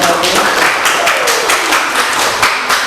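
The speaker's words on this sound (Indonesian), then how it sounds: "Tepuk tangan dulu untuk kelompok" Students in a classroom clap for a group that has just presented, a loud, close burst of many hands with scattered sharper claps, continuing steadily for a few seconds.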